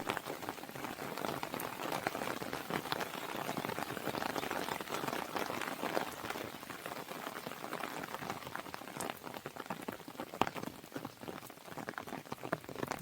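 Heavy rain falls in a village by a pond, a soft, steady patter of drops on surfaces, fairly faint and continuous with no talking.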